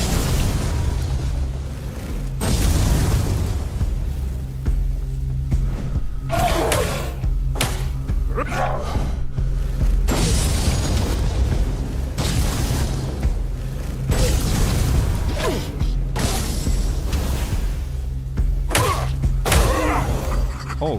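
Fiery spell bursts slamming into undead foes in Tainted Grail: Fall of Avalon, a run of loud booming impacts and crackling blasts over a dense, rumbling game mix.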